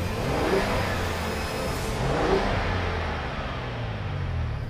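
A 2022 Ford Expedition Stealth Performance with a Raptor engine revs heard from outside the vehicle, a loud, steady engine roar that swells slightly around the middle and holds throughout.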